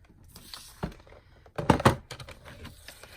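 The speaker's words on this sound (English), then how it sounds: "So first we're gonna cut this to size" Paper card stock being cut to size for a handmade journal card, heard as a few sharp, close snips and crisp slicing sounds in a quiet room, with a denser burst of cutting near the middle.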